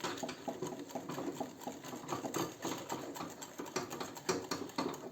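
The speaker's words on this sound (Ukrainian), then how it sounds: "вінчиком збиваю це все так" A whisk beats rapidly and rhythmically against a bowl, whisking a mixture while water is added, a fast, steady clattering whirr up close at low volume.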